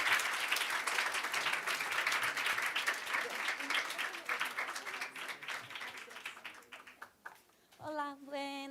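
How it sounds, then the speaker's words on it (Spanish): Sustained audience applause for a departing guest at a cultural institute event, dense steady clapping filling most of the stretch before fading, then a single voice begins speaking at the end. "vamos a despedir a Liliana con un aplauso"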